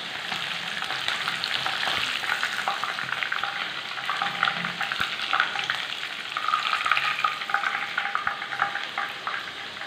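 Chicken pieces fry in a pan with a continuous, close, crackling sizzle and faint stirring, with no talking.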